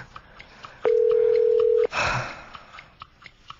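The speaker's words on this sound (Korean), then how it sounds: "왜 다들 전화 안 받아?" During a Korean game-show segment, an unanswered phone call produces a steady ringback tone. A single clean, flat beep lasts about a second, followed by faint, muffled background noise.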